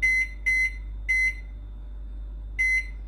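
Microwave oven beeping as its timer is set for an Oreo lava cake: four short, loud electronic beep bursts, the first three close together and the last after a pause, over a faint steady hum.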